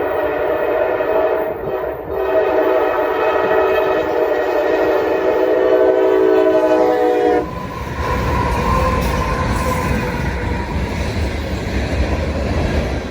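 A freight train's horn blares loudly for several seconds as the southbound train K442 departs Lawrenceville on a single main line, then the heavy rumble and rhythmic clatter of rail cars rolling past close by takes over.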